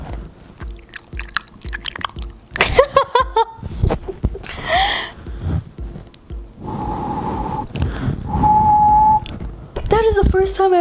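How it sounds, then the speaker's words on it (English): A person whistles a couple of sustained steady notes amid mouth clicks, breaths and other close-up ASMR noises, with talking around them. "That is the first time I ever intentionally whistled."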